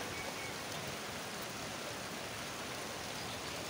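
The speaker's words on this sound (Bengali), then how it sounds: "দেখতে পাচ্ছি যে বৃষ্টিটা এখন শুরু হয়ে গেছে।" Steady rain falls as a continuous, even hiss with no breaks, moderately faint and without any voices.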